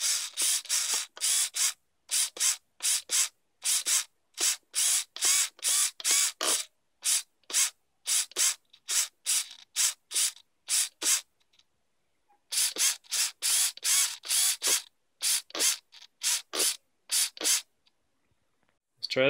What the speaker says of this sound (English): V-Win RC servo. It's a MG90D. Nice little servo. Let's test it out.